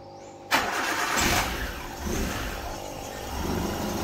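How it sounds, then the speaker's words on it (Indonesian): A car engine cranks and catches with a sudden burst, then settles into a steady idle that rises and falls slightly, heard up close. "coba dihidupkan untuk mesinnya"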